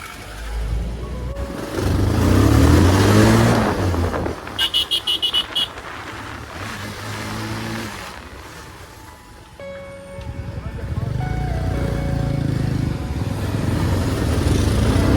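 Heavy road traffic in Banur, with motorcycles and cars engines rising and falling close by, a burst of horn beeps in the middle, and someone talking at times over the din.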